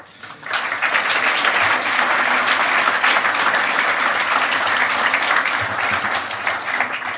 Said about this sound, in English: as we can hear through that applause, we all owe you and indeed give you our thanks